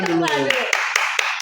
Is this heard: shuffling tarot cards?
no